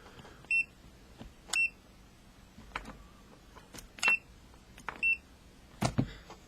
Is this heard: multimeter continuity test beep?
yes